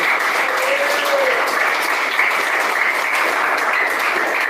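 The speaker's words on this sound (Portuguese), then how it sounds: "Quem bate mais palmas, dá glória a Deus" A church congregation claps during a sermon, producing a dense, even wash of applause that holds steady throughout, loud and alone.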